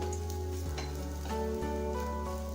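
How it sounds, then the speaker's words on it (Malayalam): Frying in a pan while making mutta adukku, a Malabar layered egg snack: a steady, close sizzle with tonal hums running underneath and no talk. "ഇതിന്റെ കൂടെ ഇതൊന്ന് ഫ്രൈ ചെയ്തെടുക്കാം."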